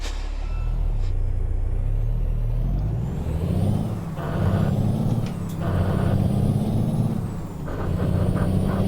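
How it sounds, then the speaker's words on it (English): Heavy truck engine in American Truck Simulator with the Sierra Nevada mod, a loud, continuous low drone that rises and falls as it labours, with a sharp air-brake hiss near the start. "That engine does not sound happy."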